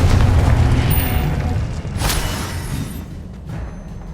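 A Confringo fire spell bursts in Hogwarts Legacy as a heavy, rumbling boom, loud at first and then rolling off into a fading low roar with a sharp crackle partway through.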